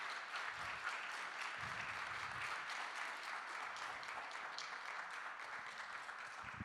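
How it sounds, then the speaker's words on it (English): Audience at a game developer talk on self-publishing applauds in a steady, even wash of many hands, distant and faint, holding for several seconds without a break. "I think there's room for applause there"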